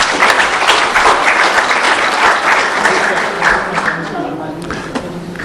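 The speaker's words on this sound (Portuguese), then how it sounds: "Uma salva de palmas para o 11." An audience at a tax-litigation debate panel breaks into dense, steady applause that gradually thins toward the end, with voices talking underneath.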